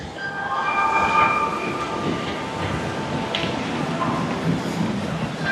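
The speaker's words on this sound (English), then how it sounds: "Here's the monorail shot coming up. This is the monorail." Near EPCOT, a Disney monorail train rolls by in a steady rumbling whir with faint tonal whine, passing at moderate distance as someone talks over it.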